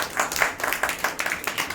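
A church congregation at a Tamil Passion Sunday service claps hands in a quick, fairly steady rhythm, faint and slightly distant, filling the short moment without speech.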